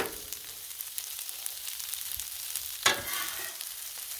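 Turkey stir fry and broccoli sizzling on a Blackstone griddle, a soft continuous crackle with small pops and one sharper clatter near the three-second mark.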